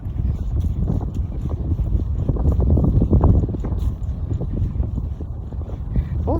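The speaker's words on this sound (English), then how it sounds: "If the wind wasn't blowing, and this wind is chilly" Chilly wind blowing outdoors on a walk, with a steady, loud, low buffeting roar against the microphone that swells briefly midway and continues throughout.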